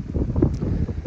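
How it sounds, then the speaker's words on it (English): Gusty wind buffets the microphone outdoors beside a car being set up for fuel pump pressure testing, a loud steady rumbling roar with no voices. "It's pretty windy."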